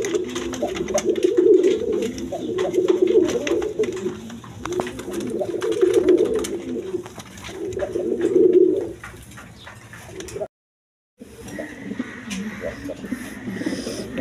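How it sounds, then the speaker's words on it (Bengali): A pair of Mundiyan pigeons, a female and a male, coo close by in repeated rolling bursts of low throaty calls, with a brief dropout near the end before the cooing resumes. "এইখানে এক পেয়ার মুন্ডিয়ান কবুতর আছে"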